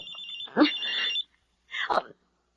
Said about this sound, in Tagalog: Si Alma, tumatawag sa cellphone ko.